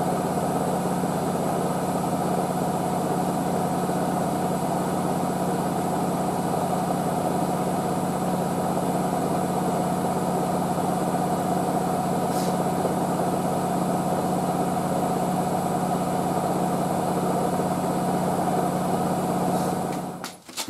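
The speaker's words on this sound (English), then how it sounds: "we're on the deep level final rinse now, doing the fast tumbles" Hotpoint WD640G Aquarius+ Super Silent washing machine on a 95ºc white cotton programme, deep-level final rinse with fast drum tumbles: a continuous steady motor hum and churning water that cuts off abruptly at the end.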